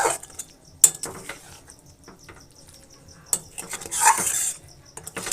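Spoon scraping and clinking in a pan as fried spices are mixed into chalta (elephant apple) pickle, with soft irregular scrapes and a few sharper metallic taps, close and fairly quiet.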